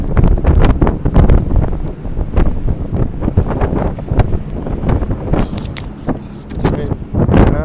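Heavy wind batters the microphone in rough, uneven gusts on a rocking ship at sea, with thumps and a voice breaking through the roar.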